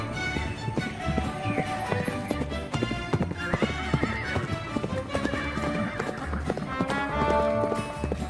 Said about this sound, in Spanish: Luego el establo, que tiene caballos y ponis para los paseos de los niños.